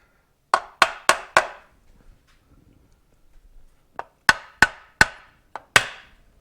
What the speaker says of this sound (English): we'll just tap on it a little bit